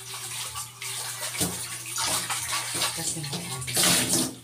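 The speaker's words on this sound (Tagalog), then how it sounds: "Hugasan natin siya." Running tap water splashes steadily while something is washed, close and fairly loud, rising into a stronger gush near the end, with a brief spoken word in the background.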